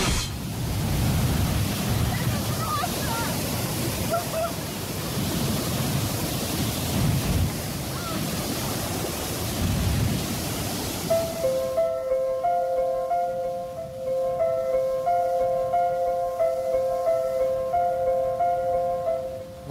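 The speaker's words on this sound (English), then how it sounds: "Water is discharged from under the dam of the Chilik River" Water rushes from beneath the Chilik River dam for irrigation in Kazakhstan, a steady, dense roar of loud churning flow that carries on throughout, with a tonal hum joining it partway through.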